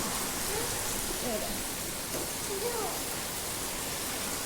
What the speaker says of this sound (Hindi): भाई देख ले कितनी तेज बारिश आ रही है